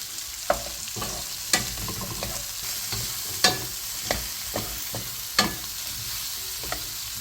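Shishito peppers and anchovies stir-fry in a pan, a soft sizzle under a series of sharp, irregular clacks of the utensil scraping and tossing, close and with no talk.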